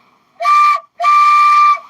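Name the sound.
train whistle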